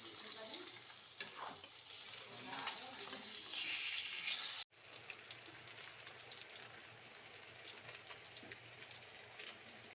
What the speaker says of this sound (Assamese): মায়ে ইপিনে মাছ ভাজিব লৈছে